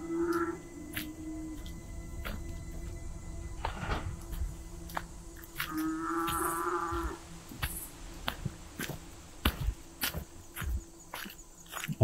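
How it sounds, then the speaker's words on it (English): Cows on a farm in Ohio give two drawn-out low moos, close by, amid rustling, footsteps and scattered small knocks. "Getting real close to the cows, I can even smell them."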